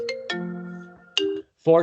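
A phone ringtone plays loud and close: short chiming melodic tones with sustained notes, repeating in a few phrases, then a voice breaks in at the end.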